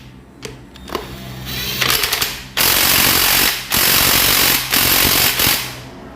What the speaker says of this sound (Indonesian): Sekarang kita kencengke dulu menggunakan impact.